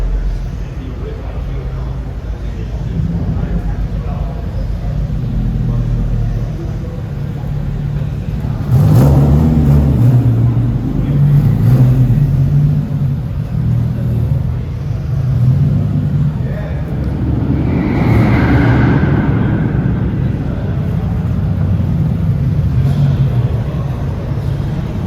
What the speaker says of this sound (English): there's a bunch of cars out here, and they steady still coming up